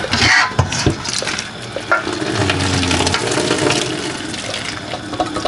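Hot pasta water pours out of a small saucepan while cooking macaroni and cheese, a loud, steady splashing gush with some clanks of the pan, close up and without speech.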